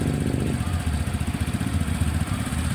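A Suzuki Burgman scooter that had trouble starting and showed a check-engine fault now idles close by, a loud, steady, pulsing putter with slight uneven throbs.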